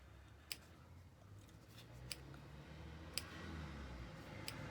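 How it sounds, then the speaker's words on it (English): Scissors making tiny snips into a brim for a handmade watch box, four faint sharp clicks spaced about a second apart over a quiet background hum. "make little snips into the brim from the inside of the circle"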